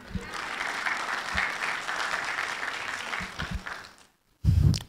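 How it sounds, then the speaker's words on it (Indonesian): Applause rises from the audience at an Indonesian stand-up comedy festival, a sustained rattle of clapping that fades into a brief silence before a sudden loud burst returns at the end. "Ya boleh tepuk tangan."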